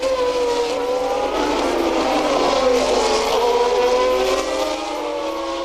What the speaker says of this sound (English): I think the thick car we can hear is actually the Cesaris